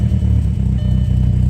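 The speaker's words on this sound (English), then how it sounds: "I have my idle set up higher, and I know it sounds weird" A MK4 Golf or Jetta 2.0L four-cylinder idles on its own at a raised speed, a loud, close, steady rumble with a slightly uneven pulsing beat.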